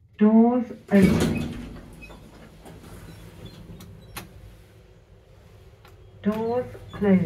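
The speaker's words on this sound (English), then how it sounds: "Doors open." A lift at Manchester Airport slides its doors open with a brief rumbling thud, followed by a quiet hum, while an automated voice announces at the start and end.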